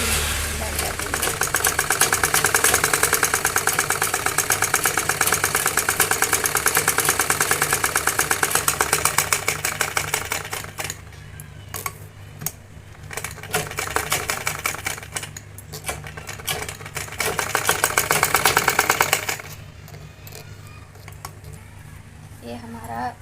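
A sewing machine runs fast stitches along the side of a blouse, a loud rapid mechanical clatter that pauses briefly, resumes in a second burst, then stops.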